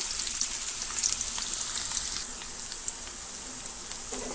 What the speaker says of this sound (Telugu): ఆయిల్ హీట్ అయ్యాక ఆనియన్స్ పచ్చిమిరగాయలు సన్నగా తరిగేసుకోండి